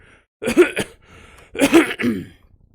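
Two short bursts of coughing or throat clearing, close and fairly loud, separated by a brief pause with no talking.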